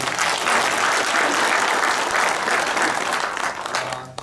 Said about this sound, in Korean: 여러분 큰 격려의 감사의 박수 한번 부탁드립니다